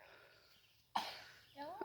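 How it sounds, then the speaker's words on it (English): A single sharp, muffled sneeze into a face mask at a vet visit, sounding close in a quiet room, followed shortly by a faint voice. "you sneezed in your mask"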